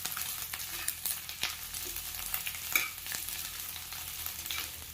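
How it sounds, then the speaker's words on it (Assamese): Dried fish (hidol) sizzles steadily in hot oil with onions and chillies, with a continuous crackling hiss broken by occasional scraping stirs of a spatula close by; no one speaks. "ধুনীয়াকৈ হিদলখিনি ইয়াতে ভাজি ল'ব।"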